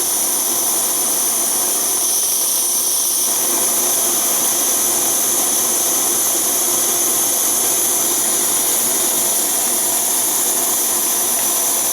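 An MSR WhisperLite Universal camping stove burns liquid fuel with a steady, loud, continuous roar and hiss that stays constant and close throughout, with no talking.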